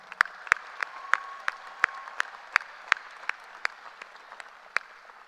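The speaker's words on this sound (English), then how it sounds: "Let's give them a round of applause." Scattered applause rises from a commencement audience, with sharp individual claps spaced out in an uneven rhythm against a quiet hall and no voices.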